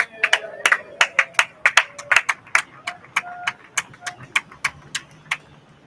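A crowd at a Gloucester schooner parade claps and cheers for the schooner Ernestina Morrissey, with sharp, uneven hand claps that bunch together and then thin out over a few seconds.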